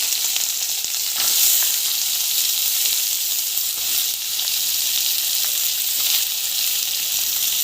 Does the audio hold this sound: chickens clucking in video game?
no